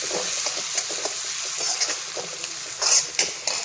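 Tomatoes go into a pan of sprouted-bean curry frying on the stove, giving a steady close sizzle with light scraping stirs and a few sharper clatters near the end.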